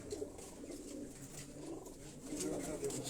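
Kasuri pigeons coo softly in a loft, low throaty rolling calls repeating in the background, with faint voices talking nearby.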